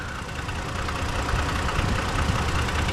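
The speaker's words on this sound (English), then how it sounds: "We've got Toyota's V6 in here." The Toyota V6 in a 2023 Tacoma TRD Off Road runs at a steady idle, a continuous low rumble with a broad hiss over it, close up and uninterrupted.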